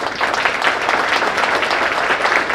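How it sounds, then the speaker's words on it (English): A seated audience at a 2023 State of the City Address applauds the students, with dense, even clapping that stays loud and steady for the whole stretch. "Let's give them a round of applause."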